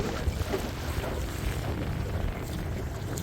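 Steady wind rushing across the microphone while sailing off Antigua near Nelson's Dockyard, a constant broadband roar with low buffeting gusts and faint water noise, no talk.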